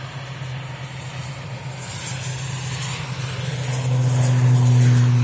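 Airplane taking off at Manchester Airport, a loud continuous jet engine roar that builds steadily and swells as the aircraft rotates, with no talk over it.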